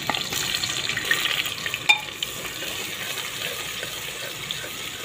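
A steady, close sizzle of onions frying in oil, with a busy crackling hiss and a brief louder clatter partway through.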